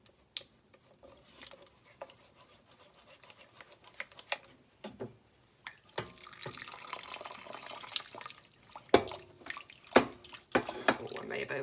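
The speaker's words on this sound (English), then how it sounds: "actually the act of pouring the hot water into the starch does the cooking and the gelatifying it for you" Hot water is poured into old-fashioned laundry starch and stirred, giving close, irregular splashing, dribbling and clinking bursts that grow busier and louder toward the end, with no talk.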